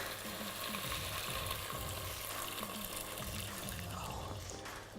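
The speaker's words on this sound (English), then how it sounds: "once we have our curry paste in, it's gonna start sizzling a bit" Curry paste sizzles and bubbles in a pan with tofu and stock, continuous frying hiss, some liquid bubbling and stirring sounds throughout.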